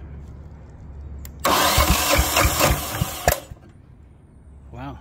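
The starter of a Lombardini 15LD400 diesel generator engine cranks noisily for about two seconds, churning without catching, then cuts out; a voice speaks briefly afterward.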